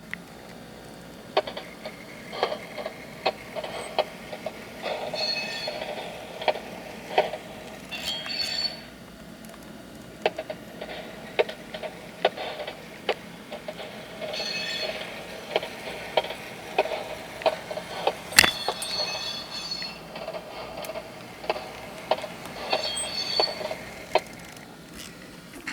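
Model train consist rolling along with SoundCar sound effects, faint rumbling and scattered clicking wheel noises with a sharp squeal partway through, no talking.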